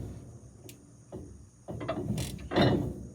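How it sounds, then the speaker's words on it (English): A wrench works on hay mower blades during installation, giving irregular metallic ratcheting and clanking bursts that build louder toward the end, close by with no talking. "So, my favorite wrench here, what I like to call Old Greenie."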